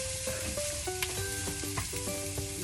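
Mushrooms and onions fry steadily in olive oil and butter in a pan, a continuous close sizzle with small pops and the clink of stirring, no voices.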